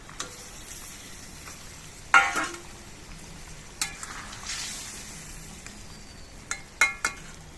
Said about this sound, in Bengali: ঝোলটা ফুটে এসেছে, তো এখন এর মধ্যে আমি মাছগুলো ছেড়ে দিচ্ছি